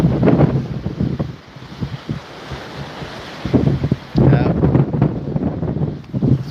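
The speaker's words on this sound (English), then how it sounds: "it's a little windy too." Steady wind rushes across the microphone by open water, with waves and a voice talking intermittently over the blustery roar.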